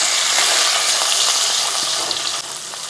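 Halved shallots, crushed ginger and three green chillies hitting hot oil in a pan for a sardine curry, a loud, dense, hissing sizzle that stays strong throughout and eases slightly near the end, close up, no talking.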